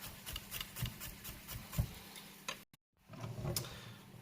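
A knife finely slices garlic on a chopping board, giving a quick series of soft, regular taps and scrapes, close but faint, with a brief dropout before the chopping resumes.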